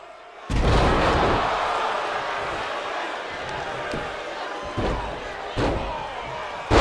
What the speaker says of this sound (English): slamming down Mero.